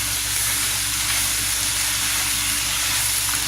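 Vegetables cooking down in a pot sizzle with a steady, even hiss and crackle, close and continuous, with a low hum underneath.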